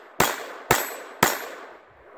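Three sharp .22 pistol gunshots ring out in a shooting drill, evenly spaced about half a second apart, each a loud crack with a short ringing decay, no talking.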